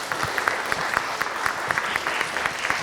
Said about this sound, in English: give a big applause for her